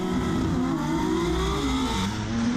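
A 1000hp GT-R drag car's engine, heard onboard during a drag race, drones loudly and continuously with a shifting pitch as it bogs down through a gear change, with no voices present.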